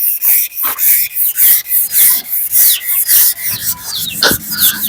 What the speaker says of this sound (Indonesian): Dempul amplas.